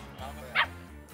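Young police-dog puppies from a breeding program giving a brief soft yip and whimper close by, with faint voices around them.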